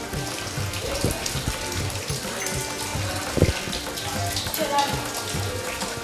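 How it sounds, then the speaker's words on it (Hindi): Water falling from a hillside pours into a pooled cave temple, giving a steady broadband splashing rush with scattered drips and splats throughout, some louder bursts near the middle. "ऊपर आप देख सकते हैं पहाड़ से ये पानी गिर रहा है"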